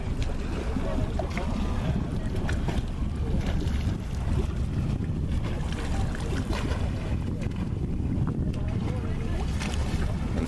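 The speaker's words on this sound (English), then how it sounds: "Bit of shipping in the channel." A boat crossing the English Channel during a Channel swim, heard as a steady, loud rumble of engine and water with strong wind buffeting the microphone throughout.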